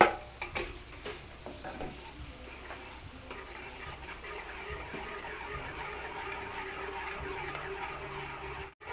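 Garlic frying in margarine keeps up a steady, soft crackling sizzle, with a few clicks and light utensil taps at the start.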